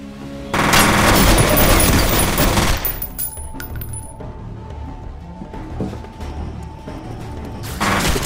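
Rapid automatic gunfire from the video game F.E.A.R. erupts in a loud, dense burst for about two seconds, then gives way to scattered shots, clinks and impacts before another burst starts at the end.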